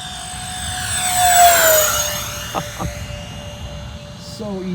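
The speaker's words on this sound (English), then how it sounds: "So easy to do when an airplane flies this good." E-flite A-10 Thunderbolt II RC model jet with twin 64mm electric ducted fans making a passing flyby, a rising and falling whine that swells as it nears, then fades into the distance.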